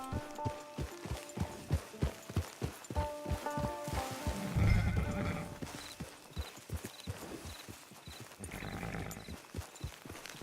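A horse trots with a steady clip-clop of hooves and gives a loud whinny midway, in the western open-world video game Red Dead Online.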